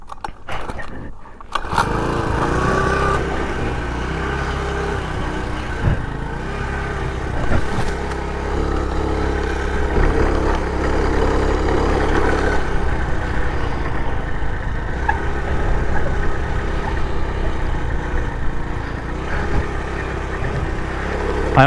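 A 49cc four-stroke motorized bicycle engine runs steadily and loudly, its buzzing drone holding close and continuous for about twenty seconds after a brief rough start.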